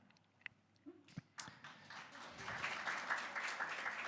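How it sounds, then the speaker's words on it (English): An audience at an education talk breaks into clapping that swells from scattered taps into steady, moderately loud applause from a sizable crowd, heard at some distance. "Thank you for clapping"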